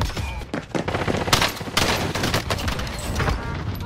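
Gunfire in the online battle royale shooter Warzone, with dense bursts of automatic fire and rapid shots cracking back and forth almost continuously, loud and close, with brief pauses between volleys.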